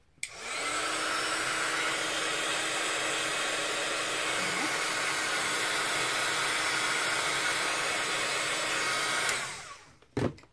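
A hair dryer blows on fresh gesso paint in a craft session, a loud continuous whooshing roar that starts abruptly, holds steady for about nine seconds and then cuts off, with a few faint clicks after.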